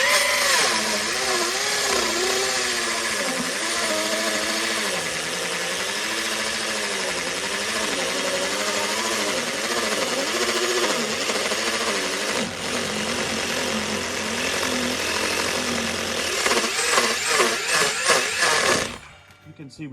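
A corded drill pierces and cuts through a tire's rubber away from the metal, running as a steady loud whine with wavering pitch for most of the stretch, then stopping abruptly near the end.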